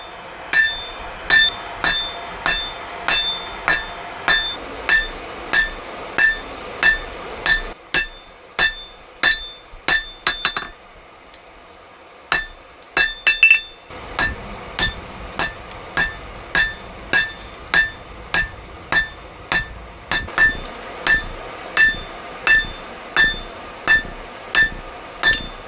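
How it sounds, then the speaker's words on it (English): A hammer strikes a hot San Mai knife billet during hand forging, ringing metallic blows in a steady rapid rhythm, close and loud, broken by a short pause before the pounding resumes. "the long process of forging it out begins"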